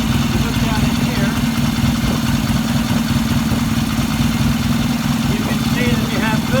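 A vintage British motorcycle engine idles loud and close with a steady, rough, throbbing beat that holds evenly throughout.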